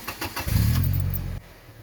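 A 2009 Toyota Tacoma in neutral fires up on a push-button start: a brief cranking burst, then a loud, close engine roar that holds for about a second before cutting off abruptly, leaving near silence.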